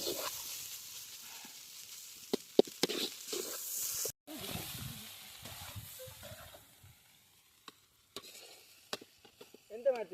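Egg fried rice is stir-fried in a pan at a village kitchen in Kundapura. Sizzling and hissing come with irregular scrapes and clatters that stop and start, with a brief silent gap partway through.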